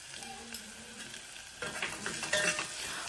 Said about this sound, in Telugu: అల్లం వెల్లుల్లి పేస్ట్ పచ్చివాసన పోయే వరకు వేయించుకోవాలి